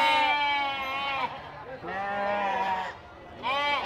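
Sheep bleat loudly and close by at a wholesale mutton market, three drawn-out wavering calls one after another with brief gaps between them.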